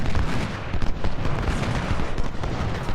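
Dense Civil War battle gunfire and cannon fire in Ultimate General: Civil War, a steady roaring wall of overlapping musket volleys and booms that fills the whole stretch with no gaps or voices.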